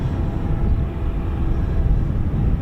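Spanish Air Force EF-18 Hornet jet with General Electric F404 afterburning turbofans at RAF Marham, heard as a steady, loud, low roar that holds without a break.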